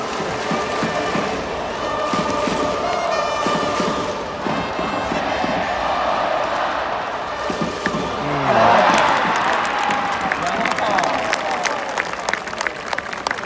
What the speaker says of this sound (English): When your team is batting, they cheer